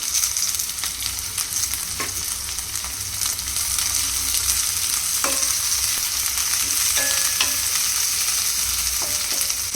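Onions and mutton keema fry in a pan, giving a steady dense sizzle throughout with occasional light scrapes and clinks of stirring, close and alone with no talk.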